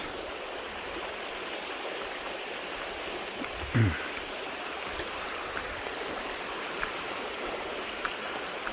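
Steady rushing of Mats Creek on the Appalachian Trail near Glasgow, Virginia, fills the air, a continuous broad wash of water with a brief soft knock partway through.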